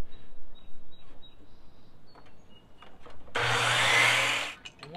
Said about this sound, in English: The first thing I'm gonna do is just cut a 45 on one end.